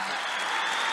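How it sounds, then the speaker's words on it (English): Comedy show audience at Carnival City clapping, a steady dense wash of applause filling the whole second without a break. "clap hands for yourselves"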